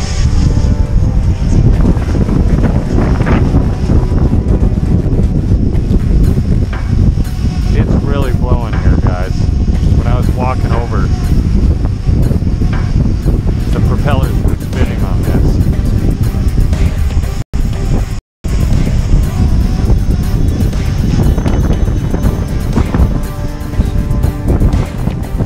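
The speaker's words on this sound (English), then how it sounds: "we'll go ahead and see what it does against some real wind" Strong outdoor wind buffets the microphone at a mine site while a small DJI Mini 2 drone flies in it, a loud continuous roar with a couple of brief dropouts near the end.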